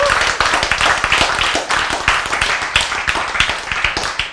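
Many hands clap in a rapid, steady rhythm, loud and close, sustained throughout like a group clapping together.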